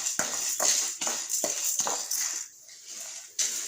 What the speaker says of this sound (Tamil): துவரம்பருப்பு நல்லா செவந்து வர வரைக்கும் வறுக்கணும்.